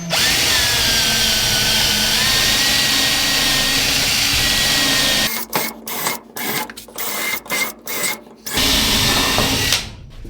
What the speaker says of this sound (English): We're gonna drill some holes in here.